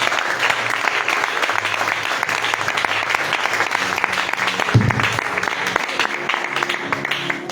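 A church congregation applauding, sustained dense clapping from many hands throughout, with voices faintly mixed in.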